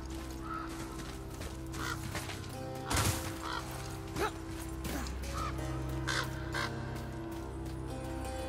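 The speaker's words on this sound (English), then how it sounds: "I hear that raven on this side somewhere." Raven in the God of War game giving a few harsh caws amid ambient game sounds and sharp mechanical clanks, moderately near.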